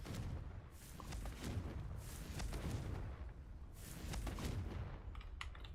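The Confringo blasting spell cast in Hogwarts Legacy, heard as several faint, muffled booming bursts in quick succession over low background noise.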